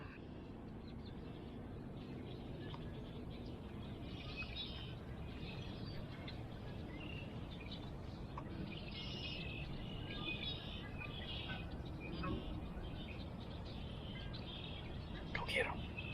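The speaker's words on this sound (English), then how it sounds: "Go get them. Get them birds, Bailey" Birds chirp and call intermittently at a distance over a constant low rumble of outdoor background noise.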